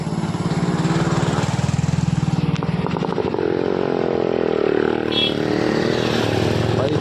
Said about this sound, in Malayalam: ആ ബൈക്കൊക്കെ വരുന്നുണ്ടല്ലോ